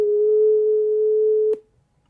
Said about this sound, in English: That's the next overtone up,